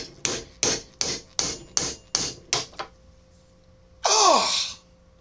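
A hammer strikes repeatedly to drive a wooden handle out of a hammer head, seven sharp metallic blows in a quick even rhythm, close and loud, then a pause and a short breathy gasp-like sound.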